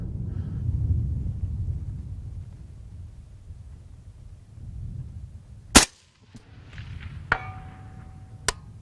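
Two .224 Valkyrie rounds from a Seekins Precision VKR20 rifle strike a distant steel target, each a sharp ringing clang with the second leaving a sustained tone, over a low outdoor rumble.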